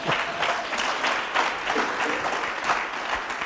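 Audience at a money management workshop and expo applauds a speaker, a steady dense wash of clapping close and loud throughout, with a faint voice briefly under it.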